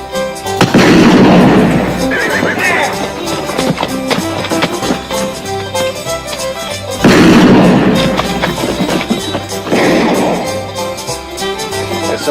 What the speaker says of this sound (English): There's somebody shooting.